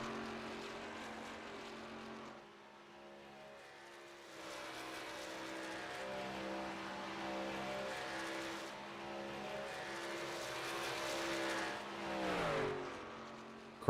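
A race car on a superspeedway qualifying lap, a faint, distant engine whine holding steady, then rising and sweeping past near the end.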